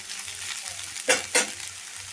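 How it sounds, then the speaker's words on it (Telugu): Prawns and onions fry together in a pan with a constant soft sizzle, broken by two quick stirring scrapes near the middle. "రొయ్యలు ఉల్లిపాయలు రెండు కలిపి బాగా ఫ్రై చేసుకోవాలి"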